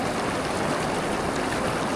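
A river flows in a steady, loud, unbroken wash of running water, with no voices over it.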